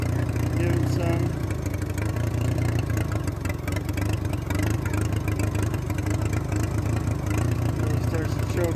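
Engine of a Minneapolis Moline BF tractor running after a carburetor adjustment, a loud steady low rumble that revs and then starts choking, heard up close without talk.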